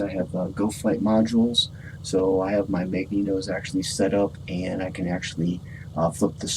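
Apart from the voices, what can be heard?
No everyday noises stand out.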